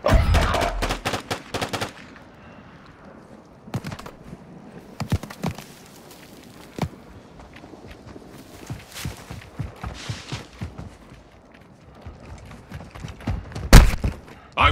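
Gunfire in Call of Duty comes as scattered sharp shots and short bursts, some close and loud, others more distant, spread irregularly through the stretch with no talk.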